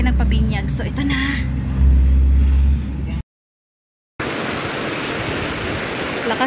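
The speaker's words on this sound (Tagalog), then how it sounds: "Pero lakas ng ulan, grabe." Heavy rain roars as a dense, steady hiss, broken by a brief silent gap before the downpour returns just as loud.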